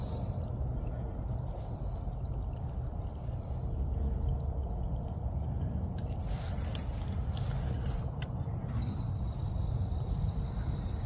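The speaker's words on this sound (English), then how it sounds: "the water's still flowing because it's going downhill" Water from a drip irrigation line in an arborvitae bed keeps running downhill as the system drains, a steady close gurgling rush with no pauses.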